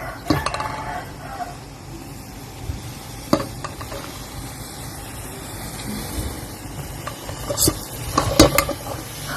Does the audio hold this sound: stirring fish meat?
yes